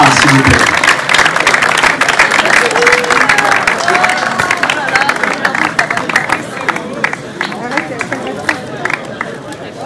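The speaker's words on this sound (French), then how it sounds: "Aux applaudissements, merci beaucoup pour Maël Latra des États-Unis." A crowd at an awards presentation claps and cheers, the applause loud at first and gradually thinning, with chatter and scattered voices mixed through the clapping.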